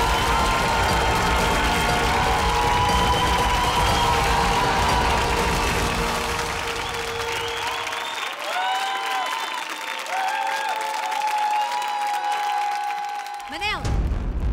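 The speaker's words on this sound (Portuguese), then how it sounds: "E do outro lado, vamos aplaudir o sensível Manuel Duarte" A studio audience at a televised kids' singing contest applauds and cheers a young contestant, dense sustained clapping that fades as other crowd noise carries on, ending with a short shout.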